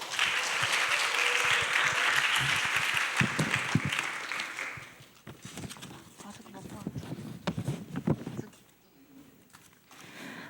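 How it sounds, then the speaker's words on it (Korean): Congregation applause fills a church youth service for about five seconds, a dense clapping wash that then fades into scattered claps and a few voices and footsteps. "박수로 청하겠습니다."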